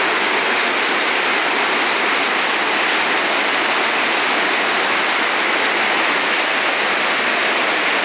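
Swollen river at the Friendship Bridge in Joaquim Gomes, a loud, constant roar of rushing floodwater with no let-up and no voices.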